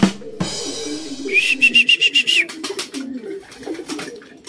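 Racing pigeons at a loft during club training, with soft cooing and wing flutters close by, a rising whistle with a bright warbling tone mid-clip, and faint background noises.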